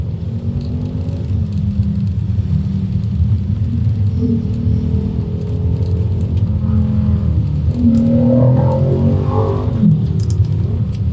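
A car engine idles and creeps along in a traffic jam, a steady low rumble with gentle rises in revving toward the end, close and continuous, with no voices.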